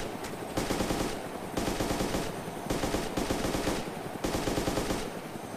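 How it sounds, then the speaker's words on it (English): Sustained automatic gunfire in the video game ARMA 2 DayZ, several long bursts of rapid rattling shots with brief gaps between them, steady and moderately loud throughout. "Taking fire on the van now."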